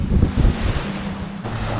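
Sea waves at a beach in Rayong, a steady close wash of surf with heavy wind rumble on the microphone throughout, no voices.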